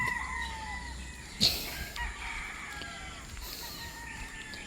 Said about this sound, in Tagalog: nagbisita lang tayo sa mga sisiw